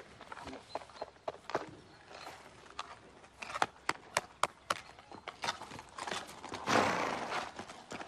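A horse's hooves clip-clop in an uneven series of sharp knocks, closer and louder in the middle, with a brief breathy snort or whinny near the end.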